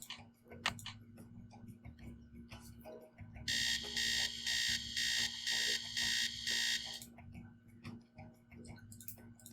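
An alarm clock in the game Nancy Drew: Scarlet Hand rings in repeated bright bursts, six or so evenly pulsed beeps, over a steady low ticking and faint background hum.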